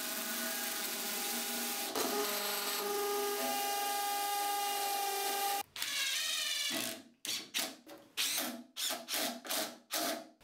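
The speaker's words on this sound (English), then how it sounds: "Let's get these screwed in." Power tool driving screws into a 2x4 workbench frame, first a long steady whirring run, then a series of short, loud bursts with brief pauses between them, close by with no talking.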